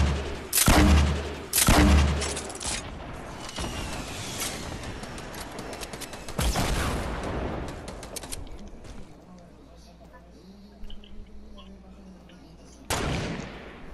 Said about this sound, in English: I hit one of them with my grenade launcher